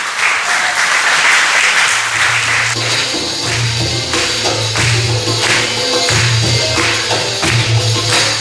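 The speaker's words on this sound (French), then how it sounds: "Je vous demanderai de l'applaudir très très fort." An audience at a French talent show applauds loudly and continuously. Some claps stand out sharply against the crowd's steady clapping, and music or a low hum sounds underneath.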